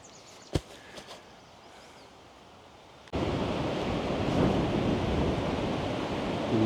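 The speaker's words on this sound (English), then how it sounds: "The northwest wind is moving sand." Steady northwest wind blowing across an open sandy shore, moving sand; a quiet stretch with a brief thump gives way abruptly to a loud, continuous broadband rush of wind and blown sand, close to the microphone.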